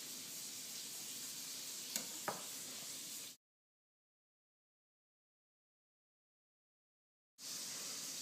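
Burgers searing in a hot pan give a steady, soft broadband sizzle with a couple of brief pops, then a long silent gap before the sizzle resumes.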